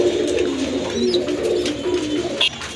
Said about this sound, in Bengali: এটা হচ্ছে একটা সুন্দরী কবুতরের জোড়া